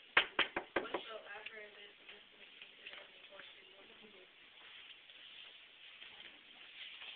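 Five quick, loud knocks on a door open the passage in a rapid, slightly slowing sequence, followed by a person speaking for the rest.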